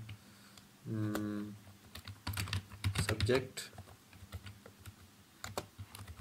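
Fingers tap on a computer keyboard in quick irregular bursts of clicks, close and moderately loud, with a brief voiced tone near the start.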